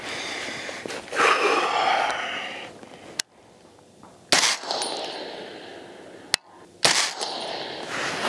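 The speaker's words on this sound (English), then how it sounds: "I'll try to take my shots a little slower to get a better grouping." Three sharp, loud rifle shots from a PSA Sabre 10 at a shooting range, evenly spaced a few seconds apart, each a crisp crack followed by a lingering echo and ambient noise.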